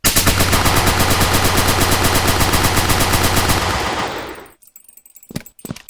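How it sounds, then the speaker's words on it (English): Rapid, sustained SMG fire from the sci-fi shooter Rogue Planet 2, a loud continuous burst of evenly spaced shots lasting about four seconds, then cutting off into a short ringing tail and a few scattered clicks. "This, of course, is just the normal SMG."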